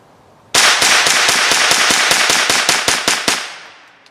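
An HK 416 D rifle chambered in .22 LR fires a rapid string of about fourteen close, sharp cracks at a steady pace, ending with a short fading tail.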